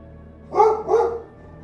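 A dog gives two quick, loud barks close by, played as a sound effect in a Ukrainian-language horror audio story, with silence on either side.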